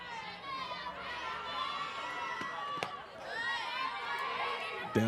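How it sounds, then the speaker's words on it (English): A crowd cheers and shouts steadily at a 2024 high school softball game, a broad continuous wash of voices from the stands with a few sharper claps and yells, heard under an announcer's commentary. "You hear the crowds cheering their respective teams on."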